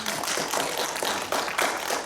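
Applause from a lecture audience in Bucheon for a lecturer who has just finished a 50-minute talk, a steady wash of many hands clapping that fills the whole moment at even loudness, with no voices over it.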